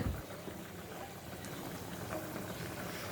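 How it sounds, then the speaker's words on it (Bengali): A pot of fish curry broth simmers on the stove, giving a soft, steady bubbling hiss at low level with a small clatter at the very start. "দেখো মাছের ঝোলটা ফুটছে"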